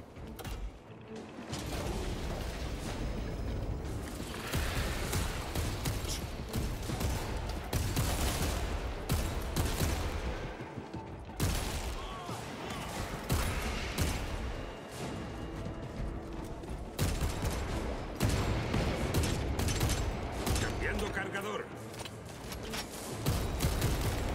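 Rapid bursts of rifle fire in Warhammer 40K: Space Marine 2 crack repeatedly over a busy mix of mechanical clanks and effects, coming in uneven volleys with brief gaps between them.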